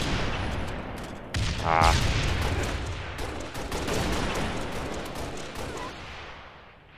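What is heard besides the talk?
gunfire in the video game Halo: Reach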